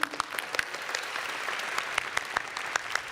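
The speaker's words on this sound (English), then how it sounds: "A round of applause for V-Step" Scattered, fairly faint applause after a dance performance at a university entrance ceremony, with sharp individual claps standing out over a soft hall ambience.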